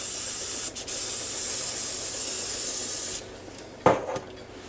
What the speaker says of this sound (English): I'm going to spray this side of them with olive oil.